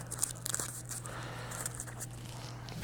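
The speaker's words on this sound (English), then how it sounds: "So shuffle the deck." A deck of game cards is shuffled at a table, giving soft papery riffles and crinkly scrapes against a faint steady hum.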